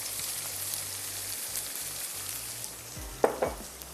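Green chilies, spices and garlic-ginger paste fry in hot oil for a boneless fish gravy, giving a steady, close, broadband sizzle with soft stirring scrapes and a few louder clicks near the end, with no talking.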